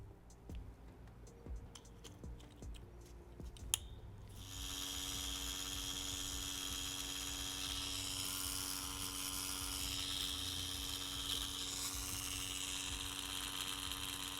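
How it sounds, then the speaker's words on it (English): A tiny pin tattoo machine by InkClaw, fitted with a 123 round cartridge and a wireless power supply, switches on after a few faint clicks and then buzzes steadily at a high pitch, close and unbroken, with no one talking. "For this demonstration, I'm going to be using InkClaw's tiny pin tattoo machine along with InkClaw's updated wireless power supply."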